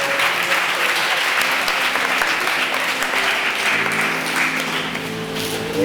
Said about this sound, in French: On acclame le Seigneur Jésus très fort